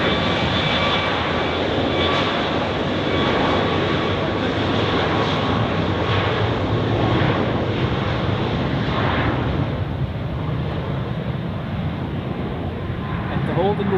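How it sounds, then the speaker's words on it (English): A jet airplane roars at Zurich Airport, its loud broadband engine rumble steady and sustained throughout, slowly shifting as it moves, with a voice talking over it. "Holding would be to create a gap in the arrivals, such that this plane on runway 16 can take off."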